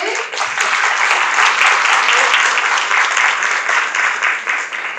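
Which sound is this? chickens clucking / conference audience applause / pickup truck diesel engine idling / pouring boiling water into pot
conference audience applause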